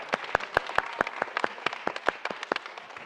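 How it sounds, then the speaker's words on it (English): A small audience at an evening theatrical program for Tikkun Leil Shavuot gives sparse, distinct handclaps in an uneven patter rather than a dense roar, heard close and clear. "let's give one more round of applause for everyone who was involved tonight"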